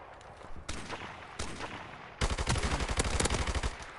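Rapid assault rifle fire in the Call of Duty MWR multiplayer game, a couple of short bursts followed by a longer sustained volley of sharp, close shots.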